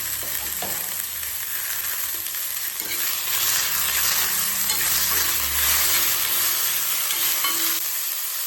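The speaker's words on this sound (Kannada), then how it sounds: "ಟೊಮ್ಯಾಟೊನು ಸ್ವಲ್ಪ ಮೆತ್ತಗಾಗೋವರೆಗೂ ನಾವು ಫ್ರೈ ಮಾಡಬೇಕಾಗುತ್ತೆ." Tomatoes frying with browned onions in a pan, a steady close sizzle with stirring scrapes and clinks running throughout, no one talking.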